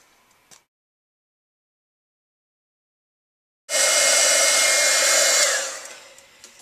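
A heat tool blasts warm air over Melon Mambo powder, a steady loud whoosh that starts abruptly after a silent stretch, holds for about two seconds and then tapers off, with a faint tick just before.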